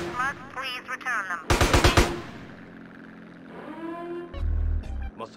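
A minigun in Grand Theft Auto San Andreas fires one loud, rapid burst of about half a second, set among quieter game sounds and brief vocal noises.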